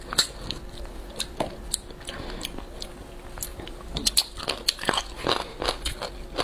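Close-up eating of chicken drumstick bones, with sharp irregular bites and crisp crunches scattered over soft wet chewing, steady and intimate with no speech.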